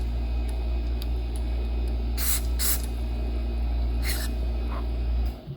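Short hissing bursts of contact cleaner sprayed into the controls of an old Guild Country Belle AM tube radio, two close blasts then a few lighter puffs over a steady low hum from a nearby air compressor.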